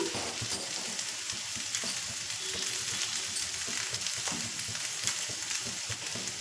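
Upma fries in a hot pan, a steady bright sizzle and crackle running throughout with occasional stirring scrapes, close and continuous with no voices.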